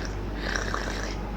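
A cat purrs in a low, steady rumble, close and soft, without a break through the short stretch and with no speech over it.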